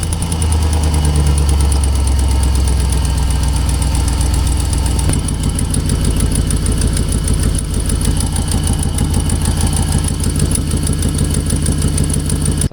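A GMC 2500 HD with the 6.0 gas V8 idles close by at a steady loud rumble, with a rapid ticking running through it throughout.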